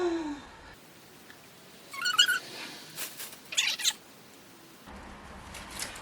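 A kitten mewing in a few short, high cries, close and moderately loud over a quiet indoor background.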